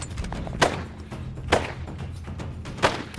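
Three muffled, booming gunshots fired at a bull during a hunt, spaced about a second apart, heavy thumps carrying through outdoor background noise.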